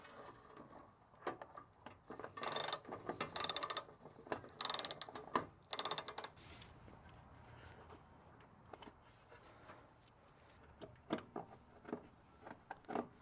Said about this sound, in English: It's just that one 7mm bolt, and this whole piece will come right out.